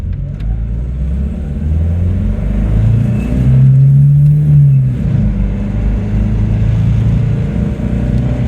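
A Datsun 200SX engine revs up loudly in first gear to about 4,000 rpm, rising to a strong roar in the middle, then easing back to a steady drone.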